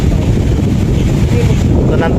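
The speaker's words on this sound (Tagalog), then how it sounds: "napakalakas ng hangin po dito ngayon" Strong wind buffets the microphone at Manila Bay Baywalk, a loud, steady low roar of gusts with water sounds beneath, continuous and close throughout.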